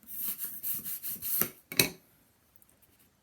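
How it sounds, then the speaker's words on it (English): A transfer sheet being burnished onto a memory book page, several rhythmic rasping rubbing strokes close by, then a couple of sharper scrapes before near silence. "I just place this where I want it. Burnish it a little."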